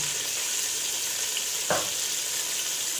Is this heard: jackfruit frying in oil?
yes